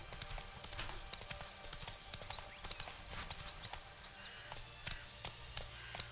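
A horse trots along in The Witcher 3: Wild Hunt, Blood and Wine, its hooves clip-clopping in a brisk, even rhythm, quiet and steady beneath faint game ambience.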